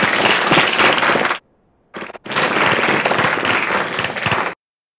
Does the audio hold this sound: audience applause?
yes